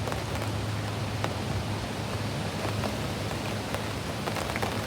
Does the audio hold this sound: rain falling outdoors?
yes